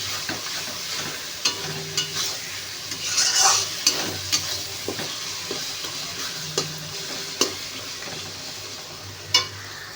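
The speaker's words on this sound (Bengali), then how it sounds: "এখন রসুনটা দিয়ে দিলাম। রসুনটাকেও ভালো করে ভেজে নেব, কষিয়ে নেব।" Garlic fries for a mutton curry in a pan, with a continuous close sizzle and regular spoon scrapes and taps as it is stirred, one hissing surge midway.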